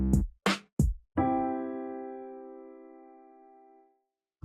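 A short piano outro plays back in Soundtrap: a few quick staccato notes, then one sustained chord that rings out and slowly decays to silence, clear and alone.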